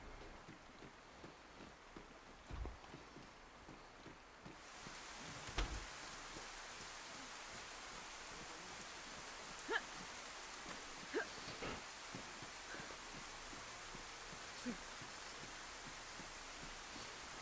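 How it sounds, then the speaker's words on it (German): Steady video game rain in DayZ hisses softly in the background, with a few scattered louder drops and taps breaking through the even patter. "Und es regnet wieder mal, wie immer."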